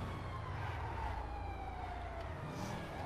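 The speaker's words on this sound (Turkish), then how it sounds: "Siren sesi duyuyorum." A police siren wails steadily from a pursuing cop car in the video game GTA V, its tone sweeping slowly down, moderately loud and continuous with low engine rumble beneath.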